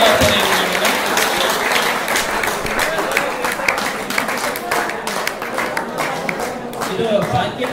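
A crowd at a Journalists' Day function in Mudalagi claps to honour local reporters, sustained applause filling the hall with sharp individual claps standing out and talk running underneath.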